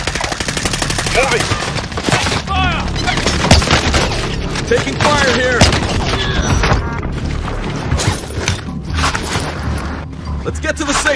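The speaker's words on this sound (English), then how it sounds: "Taking fire! Taking fire here!" Sustained gunfire in the Call of Duty Warzone battle royale game, with rapid automatic bursts, heavy booms and crashing impacts that run dense and loud throughout, mixed with shouted voices.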